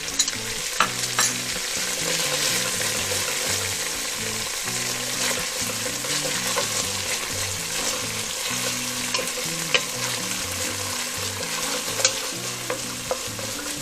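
Aji amarillo chili paste sizzling and frying steadily in oil for a fish escabeche, with a continuous close crackle and occasional spoon stirring throughout.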